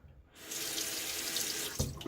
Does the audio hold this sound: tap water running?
yes